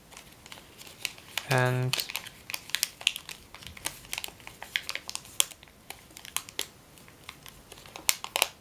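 Origami paper being folded by hand for a Mockingjay model, sharp dry crinkles and creases tapping out irregularly close up, with a brief spoken word and a short tonal beep near the start.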